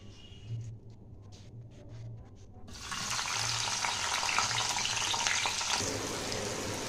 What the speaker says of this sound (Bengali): উচ্ছেটা আগে ভেজে নিচ্ছি।